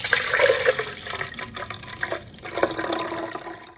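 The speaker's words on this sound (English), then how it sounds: "Another satisfying pour." Freshly juiced beet juice poured into glass mason jars, a close, steady liquid splashing and gurgling stream that fades and then swells again near the end.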